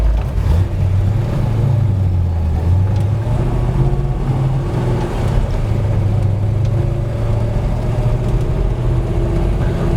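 A 1964 Ford Fairlane out on a test drive at a speedway, its engine droning steadily and loudly from inside the car, a low continuous rumble with slight pitch shifts as it cruises, no voices.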